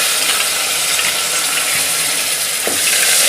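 Ginger garlic paste frying in hot oil, together with cumin, asafoetida and curry leaves, gives a loud, steady, close sizzle with a few faint stirring clinks and no voices.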